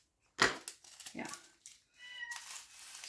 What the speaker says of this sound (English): that meow was a notification from my phone